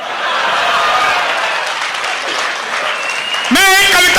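An audience at a Hindi poetry recitation claps and cheers in a sustained burst of applause, loud and close. A sharp tonal electronic sound cuts in near the end.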